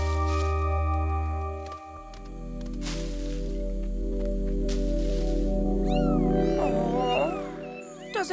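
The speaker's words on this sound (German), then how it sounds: "Das ist ein schnelles Kätzchen." Several kittens meow in a Steven Universe cartoon, a quick run of high, wavering cries in the latter half, rising over a sustained musical backdrop.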